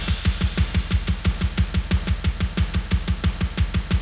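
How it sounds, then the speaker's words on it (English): Meat Grinder drum pattern, a blast-beat style groove: rapid, relentless alternating kick and snare hits with constant cymbal wash, loud and mechanical, steady fast rhythm throughout with no voices. "there's a drum beat called Meat Grinder"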